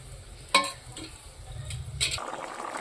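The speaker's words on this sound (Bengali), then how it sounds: "এইদিকে আমি বেগুন ভাজা করছি" Eggplant slices frying slowly over low heat in a pan, a steady soft sizzle with a couple of sharp utensil clinks against the pan, no talking.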